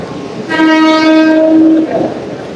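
At a busy railway station, a train horn gives one loud, close, sustained blast of a little over a second, rising out of the platform bustle and then cutting off.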